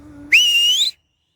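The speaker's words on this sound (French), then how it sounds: "je vais le siffler" A person gives one clear, high, rising whistle to call a dog outdoors. The note lasts about half a second after a faint low murmur, then cuts off into silence.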